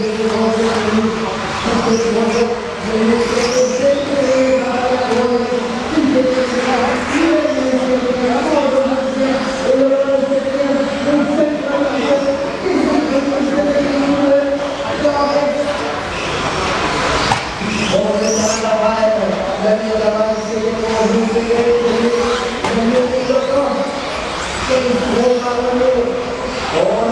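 Four-wheel drive 13.5 spec RC buggies race around an off-road championship track, their whining electric motors rising and falling continuously, close and loud over steady background crowd noise.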